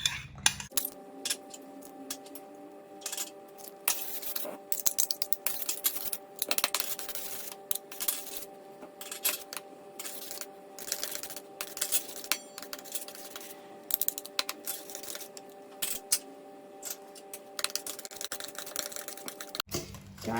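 Chicken shawarma marinade is stirred in a bowl, with light irregular clinks and scrapes of a utensil against the bowl running steadily throughout, close and fairly quiet over a faint background hum.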